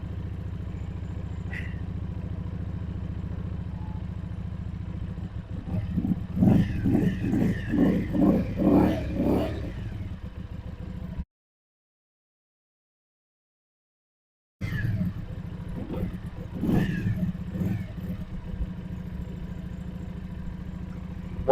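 A Yuki Funrider 125 cc twin-cylinder motorcycle engine idles at around 1800 rpm with a steady low rumble, broken by a couple of bursts of throttle blips and a brief gap of silence.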